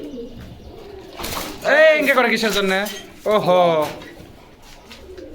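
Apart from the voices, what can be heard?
Sirazi pigeons cooing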